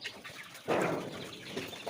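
Desi chickens on a poultry farm, with young chicks among them, make soft clucks and a brief scratchy flurry, like feathers or wings moving, against quiet barn ambience.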